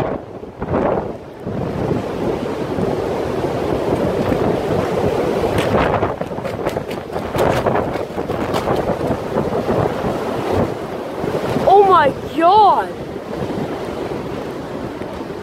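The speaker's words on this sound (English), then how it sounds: "Now that was windy" Strong wind roars and buffets the microphone for the whole stretch as a CN freight train passes, a heavy continuous rush, with a brief exclamation near the end.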